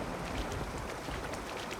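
A rain spell falls in the video game Divinity: Original Sin 2 as a steady, close, even hiss of pouring rain that runs without a break.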